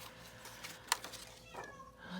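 Indoors at a crafting table, a house cat gives one short, faint meow over low background hum, with soft handling noises around it.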